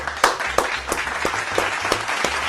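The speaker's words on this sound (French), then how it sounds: "Applaudissez pour Ibrahim Traoré encore." An audience claps briefly, with about seven evenly spaced sharp claps over a low steady hum and a faint background murmur.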